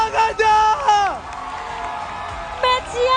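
A crowd at an esports match between RRQ and ONIC in MPL season 11 cheers and whoops in a loud, sustained swell. A caster's excited voice rises over the noise at the start and again near the end.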